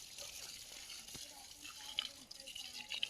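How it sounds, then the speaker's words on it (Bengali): Water pours and splashes onto garden plants, a soft continuous trickle with occasional drips, faint and close, while voices murmur quietly in the background. "জল দিয়ে দিয়ে একটু বেশি করে।"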